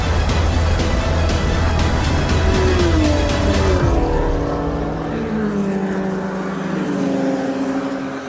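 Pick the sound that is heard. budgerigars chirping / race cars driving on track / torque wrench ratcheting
race cars driving on track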